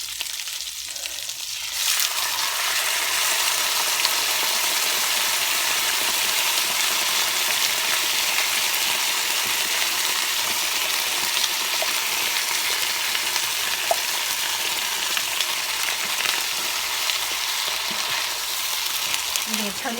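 Browned meatballs cooking in marinara sauce in a pan, a loud, continuous hiss and sizzle that holds steady throughout, close up with no talking.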